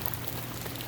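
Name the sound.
rain falling at a flooded campsite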